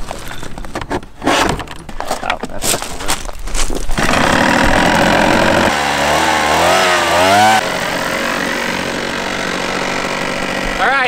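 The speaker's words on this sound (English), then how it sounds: "let's go try to fly a leaf blower" Small two-stroke leaf blower engine driving a homemade RC airplane, revving into a loud, steady buzzing drone with a rising whine, preceded by a few seconds of clattering handling and light sputters.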